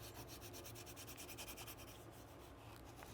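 A shotgun grip, the back strap of a Kel-Tec KSG, is wiped down with an alcohol wipe, giving steady close scrubbing and rubbing strokes that run continuously without pause and without speech.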